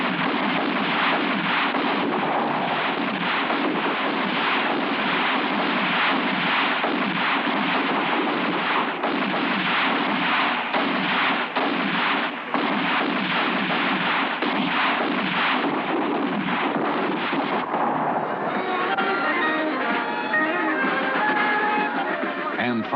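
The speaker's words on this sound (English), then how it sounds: "the village hunters, previously divided up into 5 teams, compete for the honors of the day by shooting down the tags" Village hunters fire guns at tags during a rural tree-wedding festival, giving a dense, steady barrage of crackling gunfire that runs on without a break and is mixed with crowd noise.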